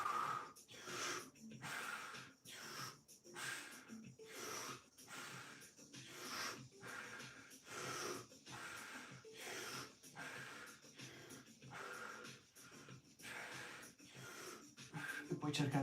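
Deep rhythmic breathing in a Wim Hof method routine, with loud, fast in-and-out breaths cycling steadily throughout, close and alone with no talk.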